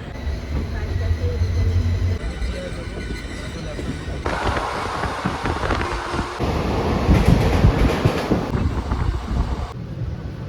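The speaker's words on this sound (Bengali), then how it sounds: "আমাদের ট্রেন কিন্তু 15 মিনিট লেটে চলছে" The Ganadevta Express train from Kolkata rumbles along steadily near Sheoraphuli station with low, continuous rolling noise and some wind buffeting the microphone, staying fairly loud throughout.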